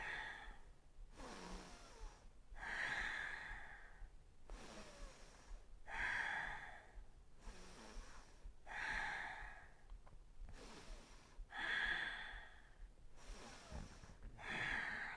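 Slow, deep breaths during a yoga class, each long inhale and exhale rising and falling in a steady rhythm of about five cycles, close and fairly quiet with no talking.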